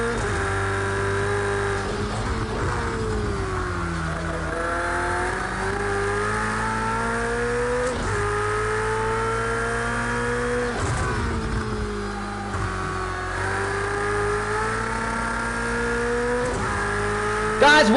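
Ferrari race car in Project Cars 2 at Donington, its 500-plus horsepower engine roaring steadily near and loud, rising in pitch through each gear then dropping at shifts, with occasional brief dips.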